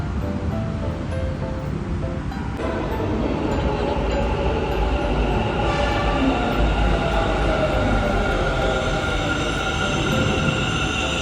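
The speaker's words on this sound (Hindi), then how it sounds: "मेट्रो 3 मिनट में आ रहा है, देखो 3 मिनट में आ रहा है मेट्रो।" Metro train running on the rails, a steady loud rumble and rolling roar that swells slightly and holds throughout, with no talking.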